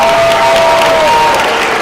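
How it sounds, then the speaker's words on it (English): Audience applauds at a middle school winter concert, a steady wash of clapping heard up close and fairly loud, with a sustained tone running beneath it. "Round of applause for those guys."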